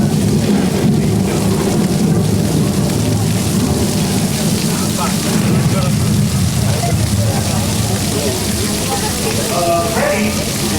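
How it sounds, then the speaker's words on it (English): Heavy rain pours down loudly and steadily, a dense roaring hiss with low rumbling underneath and occasional voices faintly audible. "let's add a little rain."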